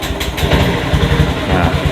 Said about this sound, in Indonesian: motor udah bisa starter lagi